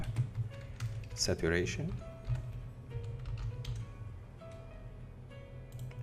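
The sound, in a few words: typing on a computer keyboard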